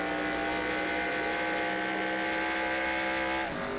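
A race car engine in a racing game holds a loud, steady high-rev whine with layered harmonic tones, briefly dipping near the end, with no other sounds over it.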